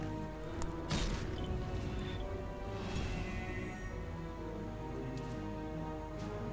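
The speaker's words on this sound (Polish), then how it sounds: "to jest ten grad strzał" The hail of arrows spell in Heroes of Might and Magic VII makes a dense, rain-like patter of many arrows striking, with a couple of sharper impacts early on. The rush is steady and continuous, without speech.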